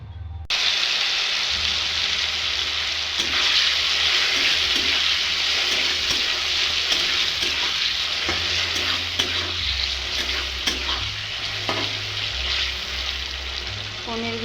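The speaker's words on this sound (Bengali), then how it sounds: "পনিরগুলো অল্প লাল লাল করে ভাজা নিব।" Pieces of paneer rubbed with turmeric and salt frying in hot oil in a wok for chilli paneer, giving a steady close crackling sizzle with bursts of spattering and occasional stirring and scraping sounds, and no talk over it.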